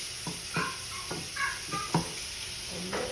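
Chicken cooks in a pan with garlic and onions, giving a quiet, steady sizzle under a series of rhythmic spatula scrapes and taps roughly every half second, with no talking.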